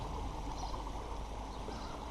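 Steady rushing water from a koi pond waterfall about 45 feet long with a drop of roughly 15 feet, a continuous close splashing wash with no talk.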